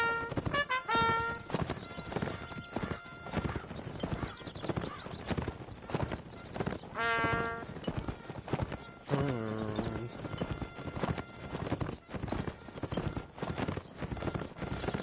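Horses clip-clopping in a Mount & Blade Napoleonic Wars siege battle, rapid hoofbeats with neighs and whinnies cutting through, dense busy game sound throughout.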